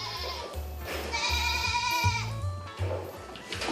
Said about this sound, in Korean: 산에서 놀던 염소들이 때를 저 우르르 내려오기 시작했다